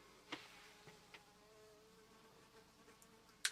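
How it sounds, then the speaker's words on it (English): A faint fly buzzes softly in a quiet room, with a few light taps and a sharper knock near the end. "Can you hear that fly?"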